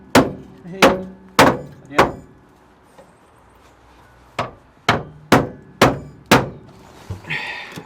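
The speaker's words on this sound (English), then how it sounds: "beating it up with a hammer now, just to see if that's going to work any better" A hammer strikes a weld on the rusty metal of a van being converted. Four sharp, ringing blows land close together, then a brief pause, then five more in a quick run, each loud and near.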